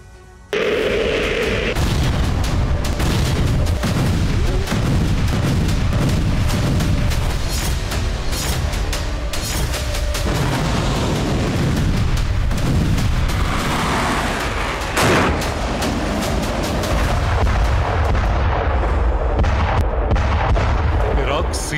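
Loud war footage of US strikes in Syria and Yemen: dense rolling explosions and artillery fire, booming blasts and crackling gunfire layered continuously over the whole stretch.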